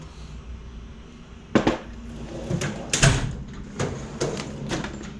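Drawers of a cheap Tractor Supply brand tool chest in a messy shop slide open and shut, giving several sharp metallic clunks and rattles at close range, spaced irregularly over low room noise.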